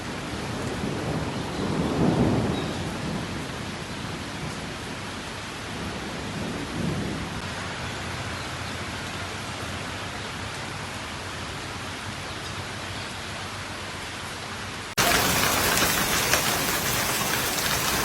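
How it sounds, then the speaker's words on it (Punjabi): An early-morning hailstorm in Punjab brings heavy rain and thunder: a constant dense roar of falling rain, low thunder rumbles early on, and a sudden louder burst of downpour at the end. "ਗੜੇ ਮਾਰੀ"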